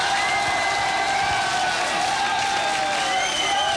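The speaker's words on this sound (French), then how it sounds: "un tonnerre d'applaudissements" A lively audience applauds and cheers for Jean-Pierre, dense clapping with whoops and scattered shouts rising over a steady roar, loud and continuous.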